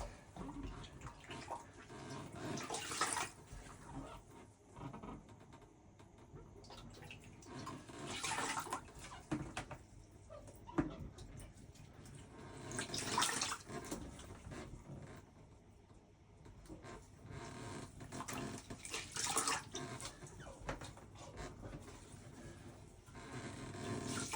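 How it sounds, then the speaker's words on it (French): A toilet flushes in a Hokkaido home, a long rushing wash of water that surges and gurgles continuously for the whole stretch, loud and close, with no talking. "il faut bien que je tire la chasse avant"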